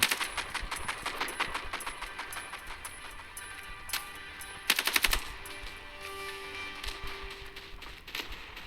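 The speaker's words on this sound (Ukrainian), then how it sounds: "мені подобається кулемет" A machine gun firing in the mobile shooter Standoff 2, with rapid bursts of rattling shots that come in rhythmic volleys, then a sharper, louder burst and scattered lighter clicks.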